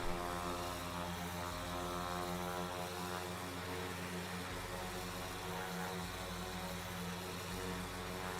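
A propeller aircraft engine in the video game Flyout drones steadily and loudly with a constant buzzing hum, and no one speaks over it.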